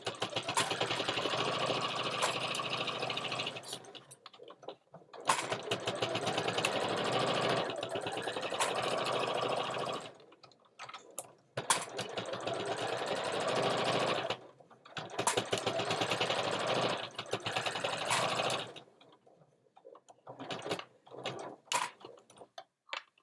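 A sewing machine stitches an ironing board cover in several bursts of steady, rapid mechanical whirring, each a few seconds long, with short pauses in between and a few quieter stop-start runs near the end, close and without talking.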